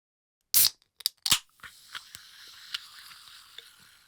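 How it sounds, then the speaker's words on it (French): An aluminum soda can pops open with a sharp crack and a few quick clicks, followed by a soft, steady fizzing hiss that lingers for several seconds, close and fairly quiet. "C'était évidemment le bruit d'une canette de liqueur qu'on ouvre."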